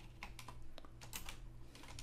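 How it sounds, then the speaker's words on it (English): Typing on a computer keyboard, a quiet, irregular patter of individual key clicks in quick succession, close up with no voices. "look, I'm typing text."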